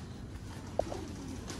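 Golden-bloodline pigeons of the Mian Nazir line give a single brief, soft coo against a steady low background rumble, with no talking.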